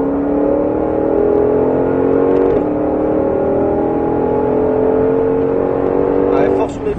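A Ford Mustang GT500 engine roars steadily at close range on the Mettet race circuit, its pitch rising and falling through gear changes, with a voice talking over it throughout.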